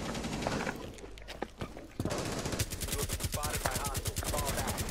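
Rapid bursts of video game gunfire, an irregular run of sharp shots that becomes a dense, steady rattle in the second half, loud and close, with brief speech-like sounds under the opening.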